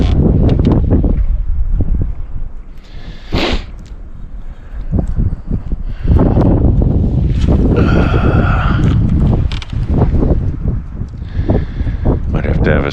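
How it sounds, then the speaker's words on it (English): Strong 40 mph wind on a freezing 5-degree March day blows across the water during canoe trout fishing, producing a loud, continuous low roar and gusting buffets on the microphone, with occasional voices underneath. "Because it's 5 degrees out and 40-mile-an-hour wind."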